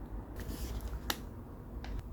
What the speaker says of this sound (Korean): 이 비닐 소리를 들어야지 나오는구나.